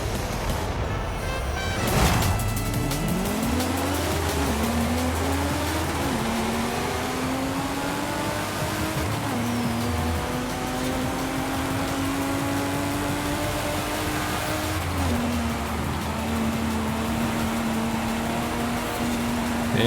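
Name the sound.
car engines in Forza Horizon 5 video game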